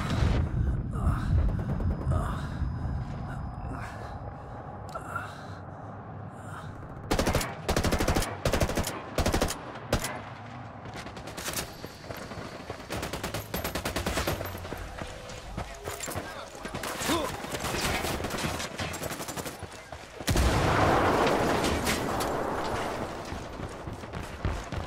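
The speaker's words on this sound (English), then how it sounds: "Shots fired." Sustained automatic gunfire and sharp bursts of shots crackle through a cartel firefight in Ghost Recon Wildlands, loud and dense with brief lulls, while voices talk and shout over the shooting.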